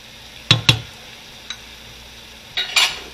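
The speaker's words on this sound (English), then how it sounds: "So just let it stir, cook in here with the beef for about a minute." A few spoon scrapes and taps against a pan as garlic is stirred with browning beef for sloppy joes, in sparse bursts over a faint low sizzle, close by and moderately loud.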